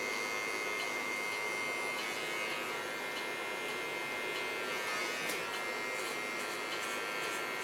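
Hair clipper trimming short curly red hair in a pixie cut: a continuous close electric buzz with slight grinding variations as the blades move through hair, steady and uninterrupted throughout.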